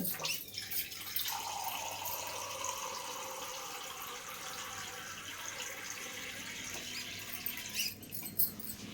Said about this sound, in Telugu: ఇదిగోండి ఇంకో గ్లాస్ వాటర్ వేస్తున్నానండి